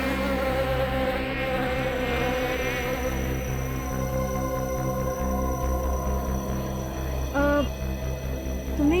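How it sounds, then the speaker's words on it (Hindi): A housefly buzzes in a steady, continuous drone that holds close and fairly loud for the whole stretch, wavering slightly in pitch, with no talking over it. "भिनभिनाने की, मक्खी के भिनभिनाने की।"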